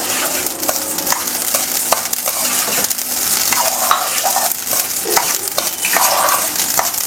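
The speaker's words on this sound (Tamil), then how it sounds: "நல்லா வந்து கடுகு பொரிய ஆரம்பிச்சிருச்சு" Mustard seeds roasting in a pan, giving a continuous sizzle scattered with sharp crackling pops and a few scraping stirs, close and fairly loud.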